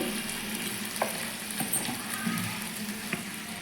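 Ginger, garlic and chilli paste sizzles and crackles in a hot pan for egg masala, a close, steady frying hiss with occasional stirring scrapes and pops.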